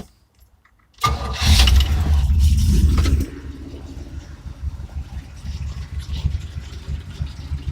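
A 1966 Pontiac GTO V8 cranks briefly and fires, roaring loudly for about two seconds before settling into a deep, lumpy idle that rumbles on steadily, close by with no talking.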